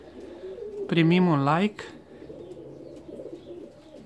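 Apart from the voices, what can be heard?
pigeons cooing in an aviary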